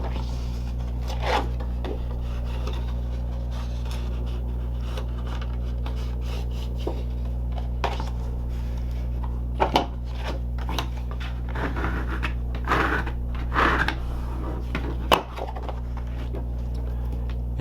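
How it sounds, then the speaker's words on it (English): Card base being folded and creased along a score line: soft paper rubbing and scraping strokes with occasional crisp crinkles and taps, close and quiet over a steady low hum. "fold along the score line on the card base"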